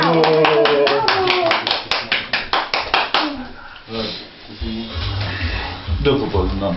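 At a child's party, a few people clap in a quick, even run of sharp claps up close, then it breaks off into excited voices and adult talk with a low rumble underneath.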